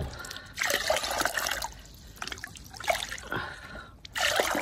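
Water soaked with rice husk pours from a container in several bursts, splashing and trickling near the listener with short pauses between pours, no talk.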